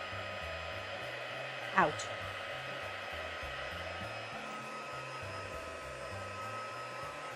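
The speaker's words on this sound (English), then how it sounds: "So you're going to use your heat tool and just take most of the moisture" A heat tool blows steadily to dry wet watercolour paint on a Christmas tree card, a constant close whir with a brief click partway through and faint low background music beneath.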